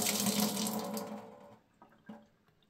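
Water from a kitchen faucet with low pressure keeps flowing after the tap is closed, a running stream that fades out over about a second and a half and then gives way to a few soft, distinct drips.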